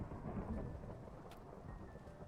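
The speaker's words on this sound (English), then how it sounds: "thunderstorm" A thunderstorm in Minecraft plays as a steady rumble of rain with low thunder rolling underneath, a dense continuous wash that holds for a couple of seconds without any voices.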